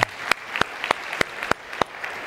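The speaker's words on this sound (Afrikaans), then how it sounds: "Kan ons hom 'n hande klap gee, net so." A church congregation applauds a member on cue in a steady, even rhythm of loud, near, distinct claps, about six sharp hits spaced roughly evenly over a couple of seconds, with no talk.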